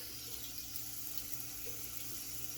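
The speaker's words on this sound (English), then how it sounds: "run the cold water again." Cold water runs from a bathroom tap in a steady, faint hiss with no talking.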